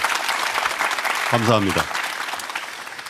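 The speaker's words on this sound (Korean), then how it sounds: "여러분 격려의 박수 한번 크게 주시겠습니까?" Audience applause at a live digital talk event with the president and panelists, dense steady clapping throughout with a short spoken thanks over it.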